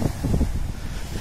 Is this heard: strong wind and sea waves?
yes